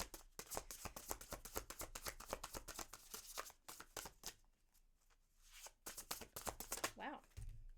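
Tarot cards are shuffled by hand in quick riffling bursts, crisp close slaps and flutters that pause briefly before resuming.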